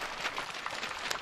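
Enthusiastic applause from workers and residents at a meeting for handing over new housing permits: a dense, even patter of many hands clapping, heard at a moderate distance and fairly soft.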